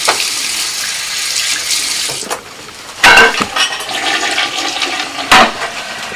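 Water rushing through household plumbing, a loud, close, steady gush that dips briefly, then returns with sharper surges and splashes.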